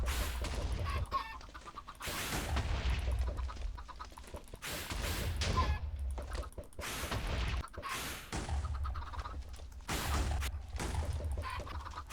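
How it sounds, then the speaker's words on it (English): Chickens cluck and squawk repeatedly in bursts, several birds close by, with short pauses between the rounds of noisy calling. "the last thing I want to do is hear chickens all day long down there"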